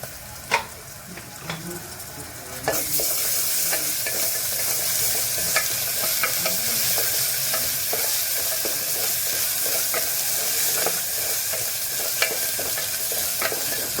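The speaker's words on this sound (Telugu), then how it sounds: "గోల్డెన్ బ్రౌన్ కలర్ వచ్చే వరకు మనం ఫ్రై చేసుకుందాం" Onions with ginger-garlic paste frying in a pot for mutton leg soup, a dense continuous sizzle close by, punctuated by regular sharp scrapes of a spoon stirring against the vessel.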